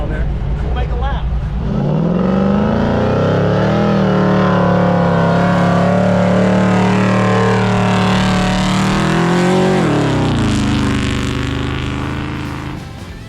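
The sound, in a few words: Jeep engine driving a lap through sand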